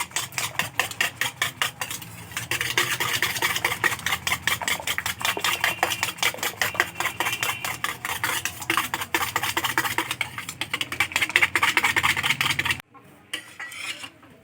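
A whisk beats oil into sponge cake batter in a steel bowl, making rapid, continuous metallic scraping and clinking up close for about thirteen seconds before the whisking stops.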